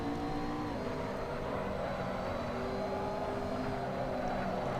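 A GT3 race car engine on full throttle at Road America in a racing video game, a steady droning engine tone that climbs slightly in pitch, moderately quiet and continuous.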